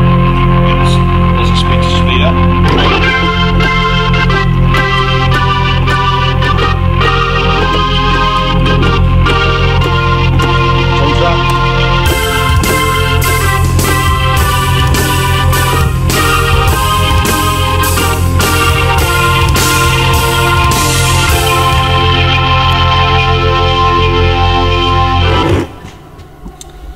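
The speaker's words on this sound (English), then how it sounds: "I've got this nice overdriven rock organ here." A loud, overdriven rock organ chord on a Korg Kross keyboard, held with a Leslie rotary effect whose swirl speeds up midway, sustaining alone before cutting off near the end.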